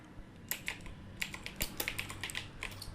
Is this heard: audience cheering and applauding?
no